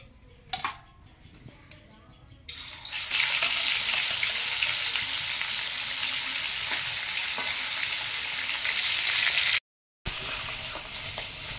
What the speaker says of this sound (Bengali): নুন হলুদ মাখানো হয়ে গেছে, এবারে ভেজে নেব মাছটা